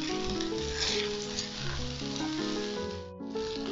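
Masala dosa sizzles steadily on a hot pan with clarified butter added at the edges, a loud, continuous crackling fry heard up close with no talking.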